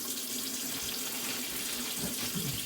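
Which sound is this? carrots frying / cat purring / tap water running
tap water running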